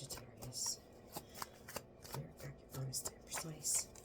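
Tea leaf oracle cards riffled and shuffled by hand in quick irregular bursts of crisp flicks and taps, close but quiet, under faint speech.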